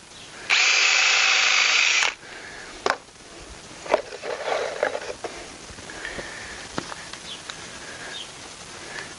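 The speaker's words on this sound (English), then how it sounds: "I actually have to drill pilot holes in it because I'm afraid it's such hard wood, I'm afraid it's going to split" A power drill bores pilot holes into hard wood decking: one loud, steady whir of about a second and a half, then quieter scattered knocks and handling sounds of the deck build.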